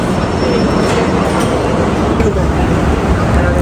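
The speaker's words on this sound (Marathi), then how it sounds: "हे बघा असं ही जी ट्रॅम आहे स्पेशल ट्रॅम अशी परतून जाते अशी" A special Hong Kong tram rolls past close by, making a loud, steady rumble of wheels and rail noise with faint squeals throughout. Voices can be heard under it.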